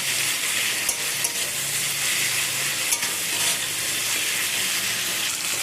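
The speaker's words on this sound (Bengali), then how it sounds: "দিয়ে সব কিছুকে ভালো করে নাড়াচাড়া করে নেব" Tomatoes and spices are stirred in a frying pan, with a steady, close sizzle and hiss running underneath soft, repeated scraping of the stirring utensil.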